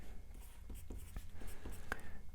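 Handwriting of physics equations for a mass-on-a-spring problem, a steady run of close scratchy pen strokes across a few seconds with no talking.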